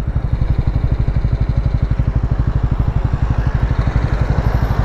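A Yamaha MT-03 motorcycle idles close by, its engine thumping in a fast, even pulse that stays loud and steady throughout, with no voices.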